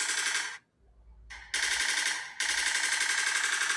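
A gunshot sound effect played from a phone speaker comes through as harsh, rapid-fire bursts like automatic gunfire, loud and tinny, broken by a short gap, with no talking.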